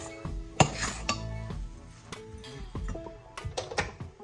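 Rava upma with coriander being stirred in a pan, a ladle scraping and clinking against the metal in irregular, close knocks and scrapes.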